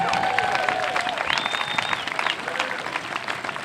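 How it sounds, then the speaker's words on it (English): A rally crowd at a cross-border gathering at the Peace Arch applauds steadily, dense clapping and a few whistles filling the space at moderate loudness throughout. "start with a big round of applause for you all for being here today"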